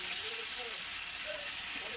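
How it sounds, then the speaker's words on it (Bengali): Water poured into a hot pan while cooking Malabar spinach with fish oil and potatoes sets off a loud, steady sizzling hiss that fills the whole moment close up. "এবার ইউজ করছি জল।"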